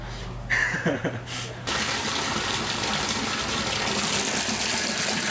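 Water gushing steadily at a washing spot in an old boxing gym, starting abruptly after a brief quiet moment and then running loud and continuous to the end.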